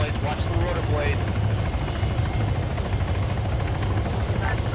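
Rotor blades of a Coast Guard helicopter in the video game Arma 3 thrum in a steady, loud, continuous drone throughout, with faint voices now and then underneath.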